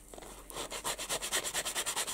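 An abrasive fleece pad rubbed back and forth over a plastic model of a Bergepanzer 2 recovery tank, a steady rhythmic scrubbing of about a dozen close, even strokes following a brief quieter start.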